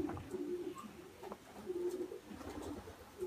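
Pigeon cooing in a rural setting, soft low repeated coos recurring several times over faint background noise, with no talk.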